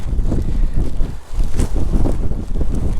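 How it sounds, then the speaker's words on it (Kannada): Rain-soaked monsoon gusts roar across a motorcycle rider's microphone in Chikmagalur, a heavy, steady buffeting that dips briefly and then surges back loud. "ಆ ರೇಂಜಿಗೆ ಗಾಳಿ ಇದೆ ಇಲ್ಲಿ"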